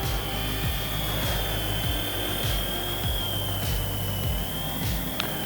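A beginner RC helicopter under $100 flies at speed level 3, a steady high-pitched motor whine with a rhythmic pulsing rotor throb repeating about every half second, close and continuous, no voices.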